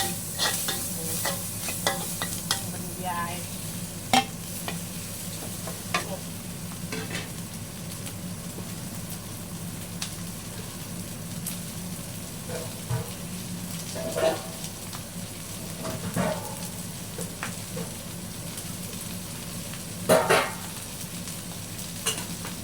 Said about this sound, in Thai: เราทอดใส่ใบมะกรูดไปด้วยนะ